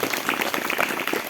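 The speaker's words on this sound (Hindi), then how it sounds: "ताली बजाओ" Congregation at a Hindi church service clapping hands in praise, a dense, steady patter of many overlapping claps at moderate distance with faint voices mixed in.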